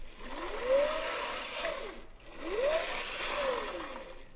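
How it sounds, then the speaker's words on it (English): Old army field generator turned by hand crank, two long rising-and-falling whirring cycles that swell and fade in a steady rhythm, close and fairly loud with no voices. "There was a private cranking a generator to provide power for an army radio in the field."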